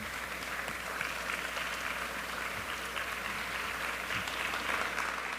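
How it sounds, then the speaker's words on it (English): Large conference audience rising to give a standing ovation, a broad, steady roar of many hands clapping that holds evenly throughout and sounds slightly distant. "I hope you'll all join us in standing up and applauding them in."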